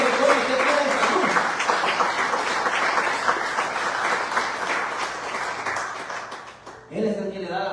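Church congregation applauding together in a sustained, dense wave of clapping that fills the hall, tapering off before a voice speaks briefly at the end.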